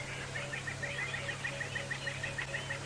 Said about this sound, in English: There's a lot of birds calling.